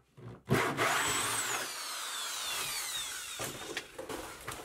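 A hole saw grinds and whines through a wooden joist in one sustained cut, loud and close, after a brief powerful drill motor start.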